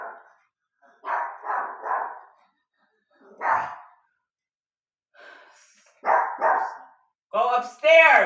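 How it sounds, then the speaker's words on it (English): A pet dog barks indoors in a quiet room, giving several separate sharp barks in short clusters, close and fairly loud, with a voice speaking briefly in between. "I'm sorry, that's my dog"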